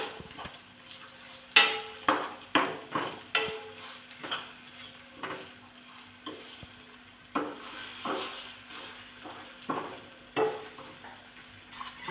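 Mashed smoked eggplant being stirred and mixed in a pan for baingan bharta, a spoon scraping and clinking against the metal in irregular strokes over a faint sizzle, fairly close and quiet, with no talking.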